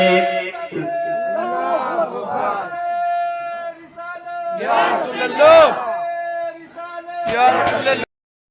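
A large crowd at an outdoor religious gathering shouts slogans in unison, answering a leader's call in several loud, sustained bursts. The collective voices swell and then break off between rounds.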